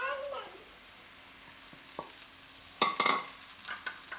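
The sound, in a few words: soaked sabudana added to frying peanuts and stirred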